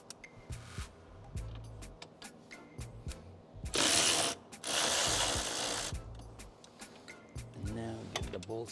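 A ratchet clicks in short bursts while loosening bolts on a Hyundai electronic steering assembly, interrupted by two longer loud whirring bursts, with a person talking throughout.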